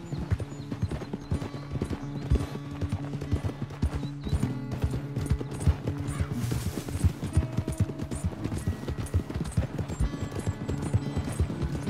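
Horse hooves clip-clop at a brisk riding pace in Red Dead Redemption 2, close and rhythmic, with a whinny partway through over a low background music bed.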